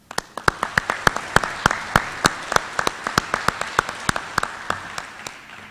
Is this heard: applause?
yes